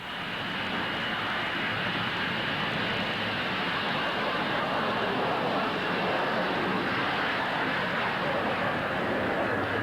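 An airplane taking off, heard as a broad, steady roar from the cabin that holds loud and even for about ten seconds, with no voices over it.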